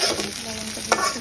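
Sliced onions browning in hot oil with salt in a pan, a close steady sizzle with a scrape of a spatula partway through.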